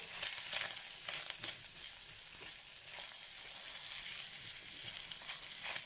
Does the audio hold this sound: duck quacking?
no